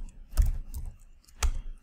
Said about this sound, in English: Oh, lots of typing.